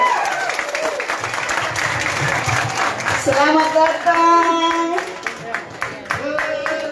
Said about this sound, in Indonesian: Tepuk tangan dulu buat Pak Wakil.